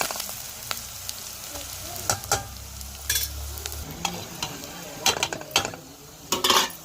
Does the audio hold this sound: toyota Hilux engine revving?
no